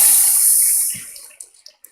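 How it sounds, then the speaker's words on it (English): Audience applause at the Asogli Yam Festival women's celebration, a dense wash of clapping that fades out, leaving a few scattered last claps. "Please, let's give our girls a round of applause."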